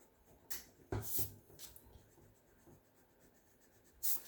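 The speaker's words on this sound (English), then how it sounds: "so I can erase that." A pencil eraser rubs out a stray line on paper beside a traced circle, giving a few brief, close scratchy strokes in short bursts separated by quiet pauses.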